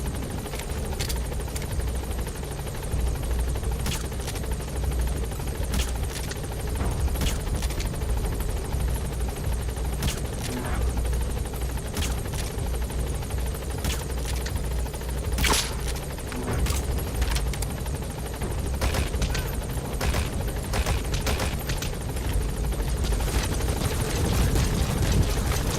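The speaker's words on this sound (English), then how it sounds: "Support helicopter has arrived." A support helicopter arriving in a video game drones with a continuous rotor roar and low thrum throughout, loud and near, with faint clicks and short bursts over it and no talk.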